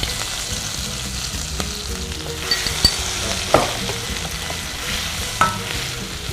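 Ginger-chilli paste and turmeric sizzle steadily in hot oil, with a few sharp scraping stirs and clicks cutting through the constant frying hiss.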